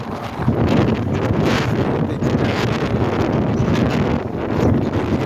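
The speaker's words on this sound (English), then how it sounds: "A little windy, a little too much." Strong wind buffets the microphone in a continuous loud roar on a Boston street, with a brief spoken phrase barely surfacing beneath it.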